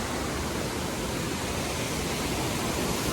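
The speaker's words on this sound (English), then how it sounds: "This is the infamously bad water crossing." A rushing stream at a wilderness trail water crossing pours continuously, a dense, even hiss of fast water close by and unbroken, with no one speaking.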